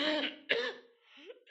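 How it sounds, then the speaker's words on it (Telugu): Coughing and throat-clearing from someone indoors in a stuffy, closed room, a couple of short harsh bursts close to the mic with no talk over them. "దగ్గు దగ్గు దగ్గు"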